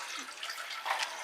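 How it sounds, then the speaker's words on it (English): A home aquarium fish tank gives a steady, close wash of running, trickling water that keeps going throughout, with no voice. "I know my fish tank is really loud."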